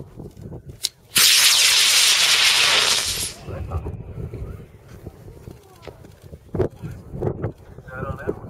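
A LOC Isis model rocket lifts off on a G71 motor with a sudden loud roaring hiss that lasts about two seconds, then cuts off and fades. Scattered voices and outdoor sounds follow.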